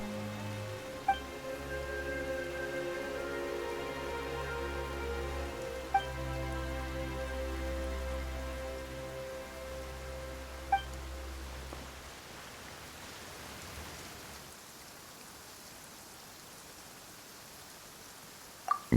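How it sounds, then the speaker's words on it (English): Steady rain patters and hisses throughout, with a low musical drone underneath for the first part and a few soft clicks. "Why is it raining all of a sudden?"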